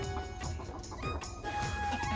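Chickens cluck while feeding in a backyard flock, one hen driving the others away from the food; soft, overlapping clucks and scratchy movement continue steadily at close range with no talking.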